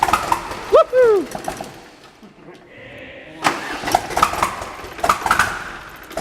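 A Volvo diesel engine that has been sitting cranks and fires up in a workshop class, rough mechanical bursts with people shouting and cheering over it nearby.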